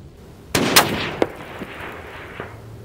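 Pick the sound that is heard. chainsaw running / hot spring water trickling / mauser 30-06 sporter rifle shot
mauser 30-06 sporter rifle shot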